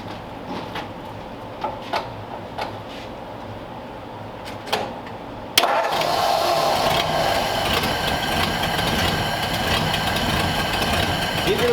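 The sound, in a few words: 1946 Ford convertible engine starting and idling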